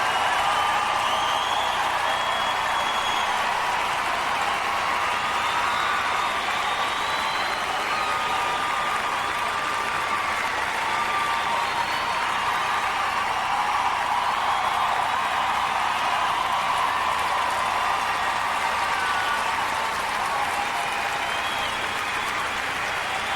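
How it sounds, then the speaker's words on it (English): Sustained, loud applause from a large audience follows a performance, a dense, steady wash of clapping and crowd noise that continues unbroken. "I'm glad that they've kept this dragging on for the applause, because she deserves it"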